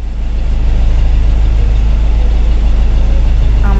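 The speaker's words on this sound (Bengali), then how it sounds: "আমাদের বোট ছেড়ে দিয়েছে" Boat engine chugging steadily at close range as a family's boat pulls away at sunrise in the Sundarbans, a loud, continuous low throb that holds level throughout with no talk.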